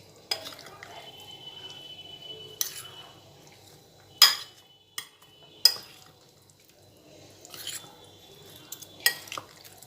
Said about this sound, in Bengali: আলুটাও আমি দিয়ে দিচ্ছি একসঙ্গে সব দিয়ে এরপরে মেখে নিচ্ছি